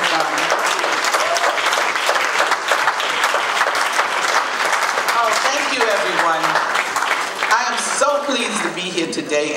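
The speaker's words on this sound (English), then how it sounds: "Let's give a round of applause to Mother Gwen Carr as she comes" A crowd at an MLK Day rally gives sustained, loud applause filling the room, with voices and cheers mixed in toward the end.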